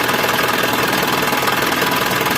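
An Isuzu Panther 2.3 diesel engine running rough, heard up close as a loud, continuous idle with a fast, even knocking clatter and no talking.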